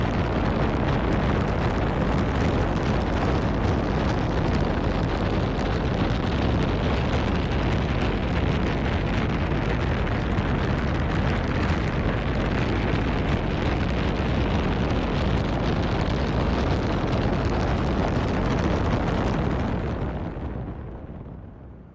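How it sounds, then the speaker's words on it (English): Spaceship engines firing on a course to Mars roar as a dense, steady broadband rush. The roar holds loud and unbroken for about twenty seconds, then fades out at the end. "Begin second firing of the engines."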